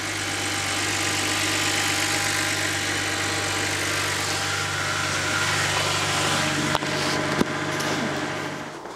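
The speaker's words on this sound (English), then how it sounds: "First of all, engine sounds fine." A BMW 1 Series engine idles steadily and close by with a low, even hum, broken by two brief knocks near the end.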